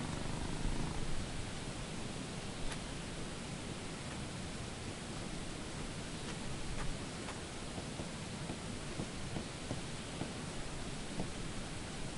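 A cat purrs in a video game, a faint continuous low rumble beneath a steady noisy hiss, with a few small clicks scattered throughout and no speech.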